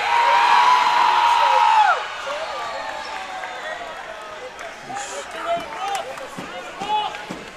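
A crowd at a college men's basketball game between Montevallo and Christian Brothers roars loudly right after a free throw. The cheer fades within a couple of seconds into arena murmur while a commentator talks.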